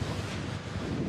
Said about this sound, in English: it is so windy up here, and as I mentioned earlier in the broadcast, that this is the windiest, most exposed part of the course